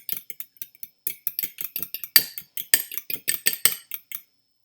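Rapid metallic clinks and taps of a utensil whisking eggs in a bowl, in quick irregular bursts with no talking.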